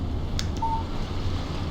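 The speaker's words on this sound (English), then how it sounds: "Text message from Barry" A short electronic tone sounds once from a mobile phone text message alert in the video game Alan Wake, clean and close over a steady low ambient hum, with brief noise bursts just before it.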